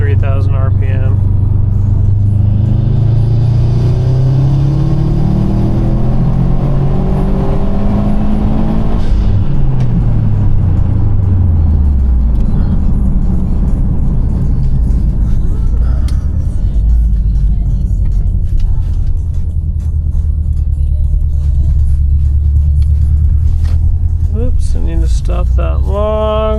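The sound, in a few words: 2018 Subaru STI engine revving on virtual dyno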